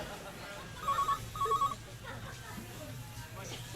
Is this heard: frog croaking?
no